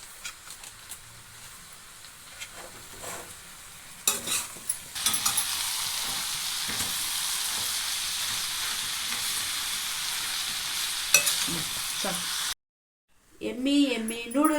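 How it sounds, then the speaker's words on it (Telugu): Egg noodles tossed with masala over a high flame give a loud, steady sizzle with scraping stirs and scattered utensil clinks. The sizzle cuts off abruptly near the end, and a voice talks briefly after. "నూడిల్స్ మసాలా వేసేసుకొని బాగా హై ఫ్లేమ్లో కలిపేసుకున్నాం."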